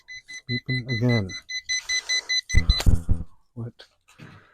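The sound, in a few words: jump box beeping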